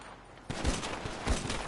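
Gunfire in Grand Theft Auto Online, a quiet lull broken by a sudden burst of rapid, loud shots with a couple of heavier thumps close by.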